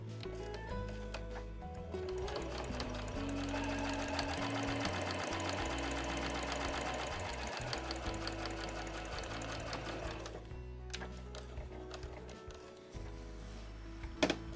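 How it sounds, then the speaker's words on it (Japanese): A sewing machine back-stitches the edges of a reversible drawstring bag, running in a rapid, even mechanical chatter for about ten seconds, then stopping, with a few quieter clicks and short bursts of stitching afterward. "仮留めなんですけれども、端と端は返し縫いをします。"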